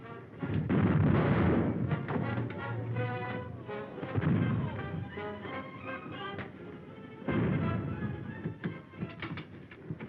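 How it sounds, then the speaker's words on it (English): Warship cannons firing a broadside in an old black-and-white film, heavy booming blasts in rolling clusters with dense rumbling echoes, loud and near, muffled by narrow, dull fidelity. "Our broadside doesn't seem to have done any damage."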